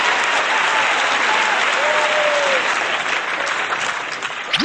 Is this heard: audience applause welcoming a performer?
yes